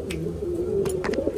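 A young pigeon from good breeding stock coos in short soft bursts, close by, with faint chirpy bird sounds around it.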